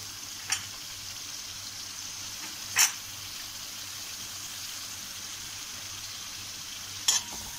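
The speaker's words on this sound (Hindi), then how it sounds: "अब हम इसमें डाल देंगे जो टमाटर हमने काटे थे" Chopped tomatoes going into a pan of cooked potatoes while they fry, with a steady broadband sizzle throughout and three brief sharper bursts as the pieces drop in and are stirred.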